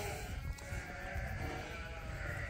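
Sheep bleating repeatedly at close range, several overlapping calls over a steady outdoor background.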